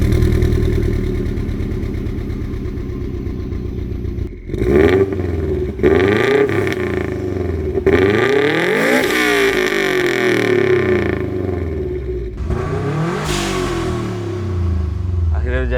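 A Subaru GC8 with a still-cold engine idles with a deep rumble close by. It is blipped into several sharp revs that rise and fall, each settling back to the idle burble.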